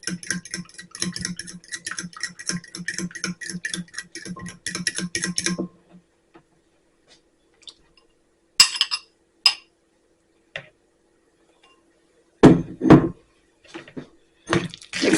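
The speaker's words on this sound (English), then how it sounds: "we're going to take 2 eggs and we're going to whisk them together here in the bowl" A fork whisks two eggs in a bowl, a fast steady run of close clinking and tapping against the bowl's side for several seconds, then a pause broken by a few scattered, louder clinks and knocks.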